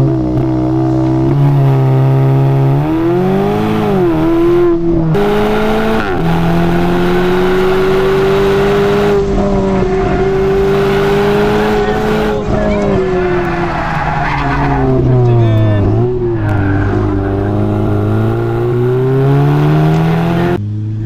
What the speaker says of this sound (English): She's drifting it.